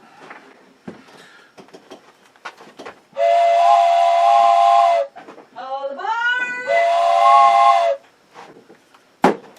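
A loud steam-style whistle sounds in two long sustained blasts, with a short rising squeal between them, set against quieter background sounds.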